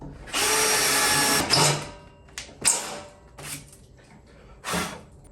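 A power drill drilling a hole whirs in several bursts, one long run followed by shorter spins and pauses, loud and close.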